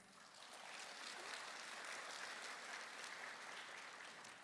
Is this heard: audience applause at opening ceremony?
yes